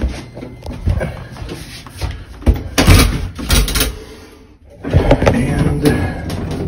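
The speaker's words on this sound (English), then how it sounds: "This is how far the door opens." An old-fashioned elevator door is pulled open nearby, with loud rattling, scraping and clunking bursts, a short quiet pause, then more sliding and knocking.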